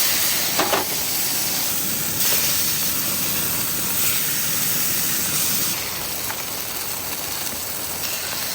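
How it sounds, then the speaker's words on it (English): Breakfast burgers sizzle steadily on a griddle set up on an abandoned railroad track, a loud continuous hiss with a few faint clinks of the flip near the start and no talking. "Time to flip my burgers."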